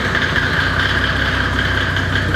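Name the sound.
Mercedes OM606 turbodiesel engine idling in Datsun 240z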